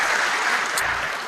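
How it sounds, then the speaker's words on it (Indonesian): A church congregation applauds during a Christian sermon, producing a short, continuous burst of dense, loud clapping from many hands with no voices heard over it. "Tepuk tangan buat Tuhan"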